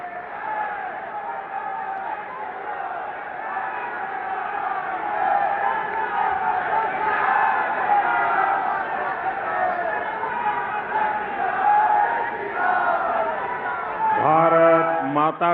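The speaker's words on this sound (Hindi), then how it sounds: "माननीय प्रधानमंत्री श्री नरेंद्र मोदी जी को आइए जोरदार तालियों के साथ आदरपूर्वक आमंत्रित करते हैं" Large crowd at a political rally in Surat, Gujarat, with the Prime Minister as guest, roars with sustained cheering and shouts that swell steadily, loud and dense throughout, with voices calling out near the end.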